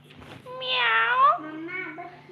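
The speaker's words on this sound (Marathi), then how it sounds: "मांजरे" A cat meows loudly and close by, one drawn-out meow followed by a shorter, lower second call.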